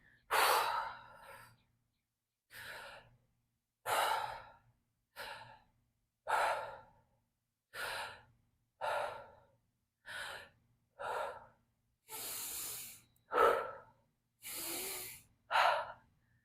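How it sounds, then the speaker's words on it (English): Deep, slow breaths during a breath work exercise, a dozen or so audible inhales and exhales in a steady rhythm, close and soft with quiet pauses between them. "So breathing into that belly."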